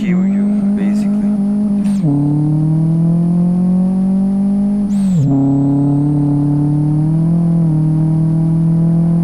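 Simulated Volkswagen Saveiro 1.6 single turbo in the Live for Speed racing game, a loud sustained engine drone holding steady revs, with two brief dips as gears shift.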